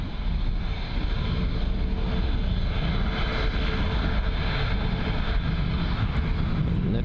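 An airliner sits lined up on runway 09 at Bristol Airport awaiting departure, a steady loud engine roar and broadband rumble holding constant throughout with wind noise and no talk.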